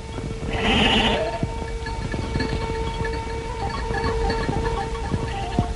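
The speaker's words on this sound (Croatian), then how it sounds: "Karabaš se ne odvaja od ovaca." A sheep gives one clear bleat near the start, followed by a steady outdoor background with scattered faint clinks and rustles.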